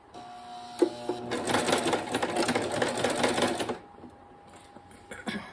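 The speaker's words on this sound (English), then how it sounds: "I'm going back to my sewing machine, and I'm going to take a 1/4 inch seam all the way down the side" A home sewing machine runs a 1/4 inch seam, with a quiet click, then a fast rattling burst of stitching lasting a couple of seconds before stopping, followed by a faint hum and a brief click.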